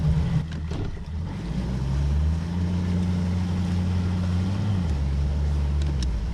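Boat outboard motor running in gear while the boat comes off its trailer at a ramp, a steady close drone whose pitch rises and then drops as the throttle changes, with a few faint knocks at the start.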